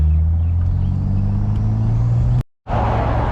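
BMW 535i with a 3-inch single exit exhaust, driven in comfort mode, gives a loud, steady low engine and exhaust drone close by, broken by a brief silent gap near the end before the rumble resumes.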